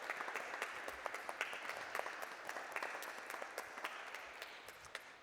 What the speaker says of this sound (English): you can actually hear some applause